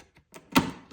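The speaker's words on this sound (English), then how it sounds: "we're going to cut these little tabs that are holding it on" Small plastic tabs are snipped off a model kit sprue, giving a few quiet, sharp clicks and snaps spaced apart in a near, otherwise silent space.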